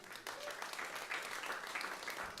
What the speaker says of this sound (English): Give Andrea Joseph a round of applause.